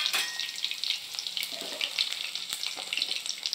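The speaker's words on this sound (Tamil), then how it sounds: "அடுத்து பூண்டு பொரிச்சுக்கலாம்." Garlic fries in hot oil in a pan while making poha mixture, giving a close, steady crackling sizzle with dense bursts of popping and no speech.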